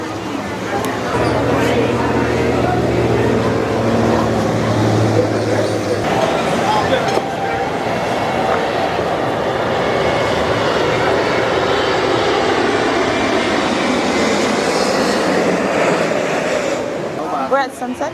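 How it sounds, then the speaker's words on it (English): A fixed-wing airplane passes over Sunset Beach, its engine drone loud and steady throughout, with surf beneath and people talking over it. "We got a plane coming over here."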